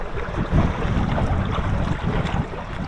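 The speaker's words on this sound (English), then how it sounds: "the wind is basically coming from this side here into the sail" Wind rushes across the microphone aboard a Hobie Wave catamaran under sail, a loud, gusty roar blended with water washing against the hull, with no talking.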